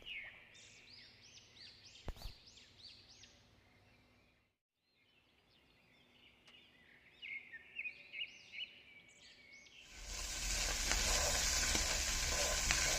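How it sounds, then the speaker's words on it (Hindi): Quiet birdsong chirps and whistles drift in from a distance, then boiled white chickpeas hit hot olive oil and set off a loud, steady sizzle that fills the end. "अब चनों को 2 से 3 मिनट तक फ्राई होने देना है।"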